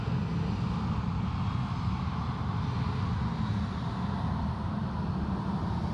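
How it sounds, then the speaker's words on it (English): A Qantas Boeing 737-800 rolls past at Sydney Airport, a low, steady jet engine rumble at moderate distance that stays even and unbroken throughout. "Victor X-Ray Romeo just rolling past there, one of the Qantas 737-800s."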